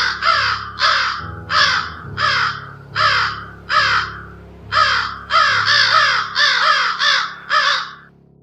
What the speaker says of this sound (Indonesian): tiba-tiba saya mendengar suara burung gagak berbunyi sangat kencang